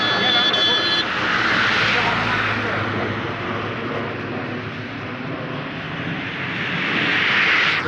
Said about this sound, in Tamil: காலையிலேருந்து இந்த ஜெட்டு பறந்துக்கிட்டே இருக்குங்க